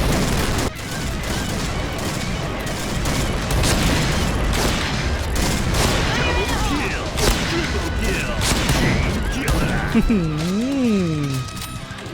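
Gunfire in a sniper shooter video game cracks and booms in quick bursts over a dense, busy background of game noise, with someone talking throughout and a warbling electronic sound near the end.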